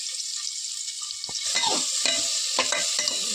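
Onions sizzle and crackle steadily in hot ghee, with a few scraping stirs of a spoon against the pan, while making pulao.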